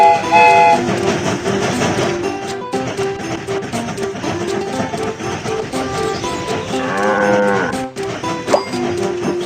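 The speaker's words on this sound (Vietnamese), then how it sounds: "Một số con cừu đang đứng trên đường dây tàu." Animated farm animals bleat and low in a children's train video game, where sheep stand on the railway track. The calls are loud and overlap busy game music and train effects.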